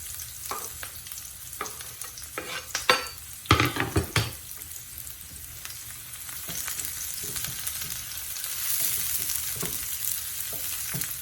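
Garlic and chilli sizzle in a pan with onion, a close frying hiss broken by sharp clacks of a spoon stirring and scraping the pan, the sizzle swelling toward the end.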